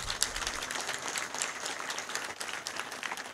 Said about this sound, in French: Il y a de quoi applaudir.